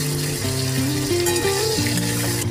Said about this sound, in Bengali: প্রথমে দিয়ে দেবো আলু, সেটা একটু ভাজা ভাজা করে নেবো